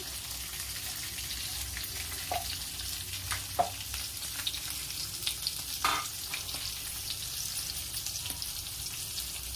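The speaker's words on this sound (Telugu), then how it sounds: "కొద్దిగా కారం, తగినంత కారం వేసుకొని బాగా వేగేలాగా కలుపుకోవాలి." Spiced puffed rice (borugulu) with salt, turmeric and chili powder frying in a pan while being stirred: a steady soft sizzle with occasional scraping knocks from the stirring.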